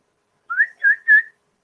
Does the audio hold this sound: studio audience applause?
no